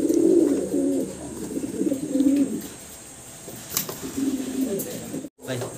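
A pair of large Lotan pigeons coo in low, throaty rolling phrases, close by and fairly loud. Someone talks at times between and over the calls.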